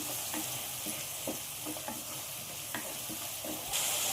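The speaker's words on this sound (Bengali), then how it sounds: "আদা, রসুন, পেঁয়াজটা আমার ভালো করে ভাজা হয়ে গেছে" Onion with green chilli, ginger and garlic paste fries in oil with a steady, fairly quiet sizzle, while a spoon stirs it with occasional light scrapes and taps.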